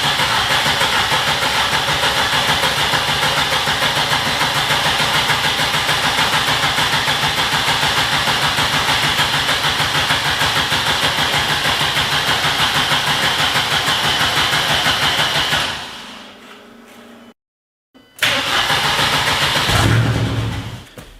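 A Mercedes M111 turbo engine cranks steadily and loudly for about fifteen seconds without catching, then the starter cuts off into a brief silence before a short second burst of cranking.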